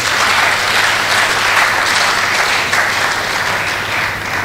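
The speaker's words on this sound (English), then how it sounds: "With a round of applause" Sustained audience applause at an academic lecture ceremony, a dense, steady clapping that holds at a loud, even level throughout with no voices over it.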